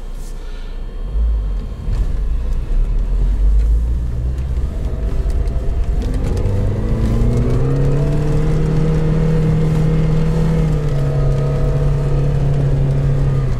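A Lada Niva 4x4 with differential lock engaged grinds up a roughly 30-degree slope, its engine rumbling low and then revving higher and steadier, a loud continuous drone with rising tone throughout.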